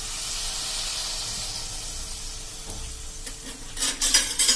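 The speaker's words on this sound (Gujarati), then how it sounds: "એ જ રીતે હવે આપણે બીજો રોટલો પણ તળી લેશું" Chorafali dough frying in hot oil gives a steady close sizzle and hiss, with a few sharper crackles and bubbling bursts near the end.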